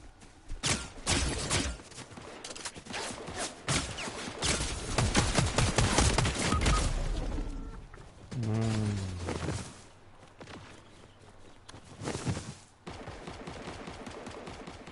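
Shotgun fire in the video game Fortnite, repeated loud blasts and bursts of gunfire over about fifteen seconds, mixed with other game sounds and a brief tonal effect midway.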